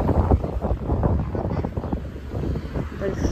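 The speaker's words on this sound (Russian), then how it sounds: "ну ветер сильный" Strong wind blows outdoors where children are wearing warm jackets, a continuous rumbling buffet on the microphone with gusty surges, partly under people talking.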